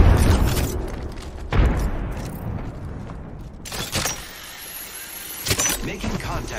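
Several heavy booms from a frag grenade going off in Apex Legends punctuate the gunfire and game chatter of a close-range firefight. The blasts are loud and sudden, with a voice speaking between them.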